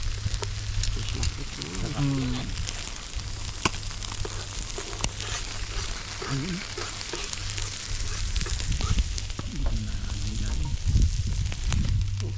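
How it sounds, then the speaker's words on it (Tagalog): Food bubbling and sizzling in a pan, a constant crackling hiss with occasional pops, while people talk nearby. "Parang nagkukulo na yan ha."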